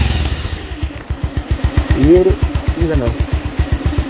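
Bajaj Pulsar 150 motorcycle on its stock company-fitted silencer, a steady close thumping exhaust beat at idle with slight revving, while someone talks briefly over it.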